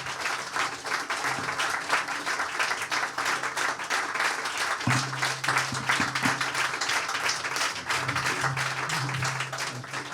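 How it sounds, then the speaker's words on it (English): Sustained audience applause for an award recipient at a 2019 award ceremony, steady dense clapping throughout with faint low voices underneath. "a warm welcome and applause for you"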